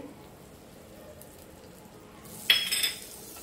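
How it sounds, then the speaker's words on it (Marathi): Butter drops into a hot frying pan for a butter garlic prawns dish and begins to sizzle, starting softly and then rising into a brighter crackling hiss after a clatter of the pan, with no talking. "आता पॅन मध्ये मी बटर घालते"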